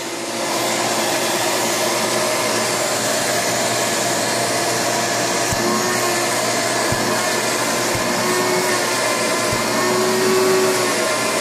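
A Shop-Vac portable wet/dry vacuum runs at close range with a loud, steady whining roar that holds without a break. A few soft low thumps sound partway through.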